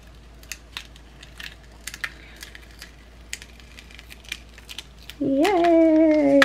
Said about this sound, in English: I am peeling off the vinyl where my cutter